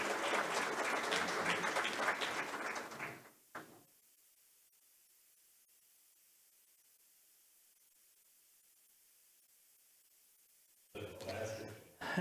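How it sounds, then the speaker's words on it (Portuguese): A crowd at a hackathon closing ceremony claps for Robert in a burst of about three seconds that cuts off into near silence. A second wave of clapping rises near the end. "Então, um aplauso para Robert."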